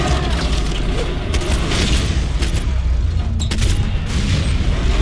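A loud, rumbling explosion in the video game Skyrim, with heavy low-end boom and crackling bursts, continuous and dense throughout.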